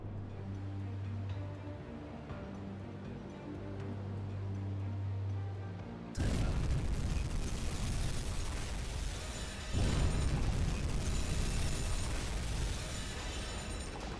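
Torpedo hits exploding against a C3 cargo ship in the UBOAT submarine game, a sudden loud broadband blast that cuts off a low droning hum, then a second heavy impact a few seconds later with rumbling aftermath.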